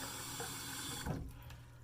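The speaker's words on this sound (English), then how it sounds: "Just going to add some more water here" Water poured from a tap into a shaving mug, a faint steady trickle that briefly splashes louder near the end, close and alone.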